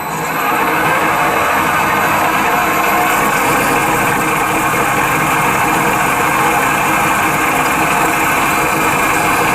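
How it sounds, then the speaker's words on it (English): Holbrook lathe motor running slowly in back gear after repairs, a steady loud mechanical hum with even vibration throughout, no voices. "Right, we're in back gear now. It's way too slow."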